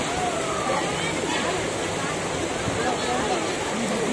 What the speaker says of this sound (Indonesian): air semakin deras